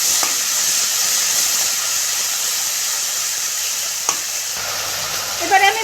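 Banana flower (mocha) frying in a pan for mochar ghonto, a steady close sizzle and hiss that runs throughout with a brief stir noise near the end.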